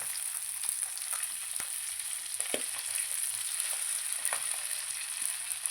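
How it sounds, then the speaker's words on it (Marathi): Rava-coated fish fries in a pan with a steady, close hiss and crackle. Occasional small pops and clicks sound through the continuous sizzle. "आता एका बाजूने हे फिश छान फ्राय आहे तर आपण पलटून घेऊया"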